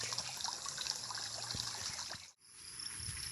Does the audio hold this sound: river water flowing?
yes